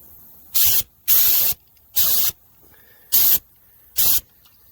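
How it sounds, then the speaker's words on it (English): Five short, loud hissing bursts from a spray gun applying light paint coats to the rocker panels and cab corners of a Ford F-150, separated by brief pauses with no talking. "I'm trying to do a real light first coat just to get it to tack and stick"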